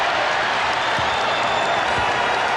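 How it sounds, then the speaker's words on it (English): Dense, steady roar of a basketball arena crowd at the United Center during the 1996 NBA Finals, Bulls against the Sonics, a broad wash of cheering and applause with faint low thumps, sustained throughout. "And the Bulls now hearing it from the crowd."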